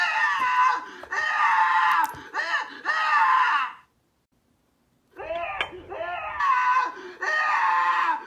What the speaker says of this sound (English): This person created a strawberry that screams whenever you cut into it.